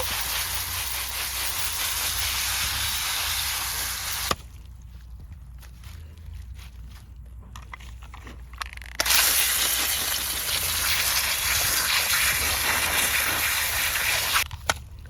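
Water sprays over a Peruvian parsnip (arracacha) and Panama berry plants in a subtropical food-forest garden, a steady close hiss that stops for several seconds midway and then resumes just as loud, with no talking.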